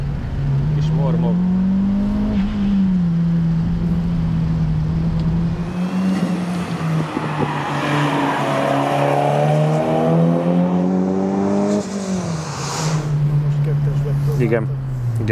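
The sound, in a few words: tuned car engine rumbling while lapping a race track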